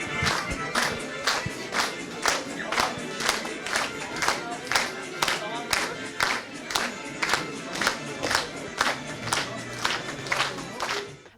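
Students honour a champion with loud rhythmic clapping in unison, a steady beat of sharp claps about twice a second, under crowd shouting and cheering throughout.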